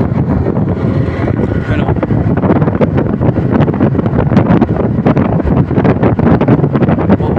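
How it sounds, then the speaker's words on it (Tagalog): Strong wind buffets the microphone in a loud, continuous rumble at a crane work site, with gusty roaring filling the whole stretch. "Medyo malakas po ang hangin dito ngayon guys."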